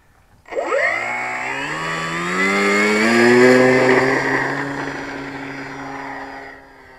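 A model airplane engine on takeoff starts abruptly, then climbs into a loud, high buzzing whine whose pitch rises with throttle and holds before fading slightly as the plane pulls away.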